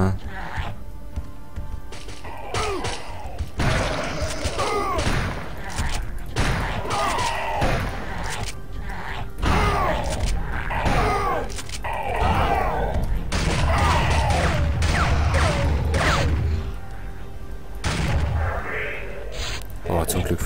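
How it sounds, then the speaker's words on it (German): Rifle shots in the remastered shooter Turok 2: Seeds of Evil ring out as sharp, booming blasts spaced irregularly across the stretch, mixed with other game noises while someone talks over them. "schießen wir erstmal das Gewehr mit ganze 6 Schuss leer"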